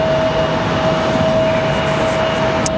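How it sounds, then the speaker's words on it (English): Spirit Airlines Airbus A321 arriving from Fort Lauderdale at Raleigh-Durham on a windy day, a loud, steady jet roar with a sustained whine, alone without voices. "Spirit Airlines 363 coming in from Fort Lauderdale,"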